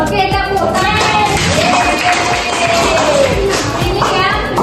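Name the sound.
group clapping hands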